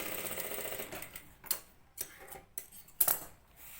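A sewing machine stitches over a gents kurta, its rapid mechanical rattle running at first, then breaking into short bursts separated by quiet pauses and small clicks.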